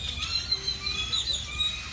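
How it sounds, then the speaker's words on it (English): A dense flock of birds perched on power lines in Costa Rica keeps up a loud, continuous chorus of overlapping chirps and calls, with outdoor background noise underneath. "There are birds covering the power lines and they are loud."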